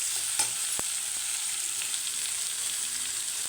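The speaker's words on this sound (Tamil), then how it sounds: "இப்போ கொஞ்சம் சோம்பு, வெங்காயம், பச்சை மிளகா, கருவேப்பிலை இதெல்லாம் போட்டு நல்லா வதக்கிடுவோம்." Fennel seeds, onion, green chilli and curry leaves sauté in a hot pan for quail gravy, giving a steady, close hiss of frying with a few faint stirring clicks and no voices.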